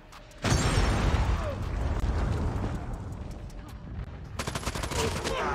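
Rapid bursts of video-game gunfire in Call of Duty Mobile, loud and dense, with dull booms and crackling shots rolling almost continuously, then a fresh volley of sharp automatic fire near the end.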